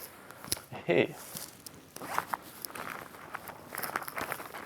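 The zipper on a mountain bike backpack is pulled open in a short close rasping burst, followed by rustling and handling noises while a person talks.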